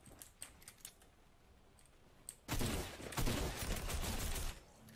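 Rapid bursts of gunfire in the video game Fortnite, a dense loud volley of shots that starts abruptly midway after quieter scattered clicks and keeps crackling to the end.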